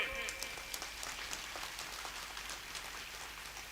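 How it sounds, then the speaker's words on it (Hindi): Thin, scattered applause from a conference audience at a Muslim girls' education event, a soft continuous patter of claps at low volume. "तालियां कमजोर हैं"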